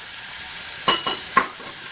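Chopped onion and vegetables frying in a pot for fish chowder, a steady close sizzle with a few brief stirring scrapes partway through, no voices.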